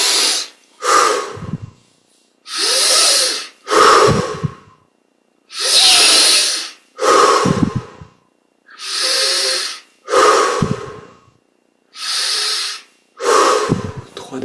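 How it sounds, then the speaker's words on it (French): Deep, slow breathing during a guided yoga meditation, nine or ten loud, close inhales and exhales in an even rhythm separated by short silences, with no talking. "On augmente un petit peu l'amplitude de chaque respiration."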